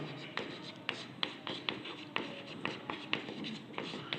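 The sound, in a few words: writing a formula by hand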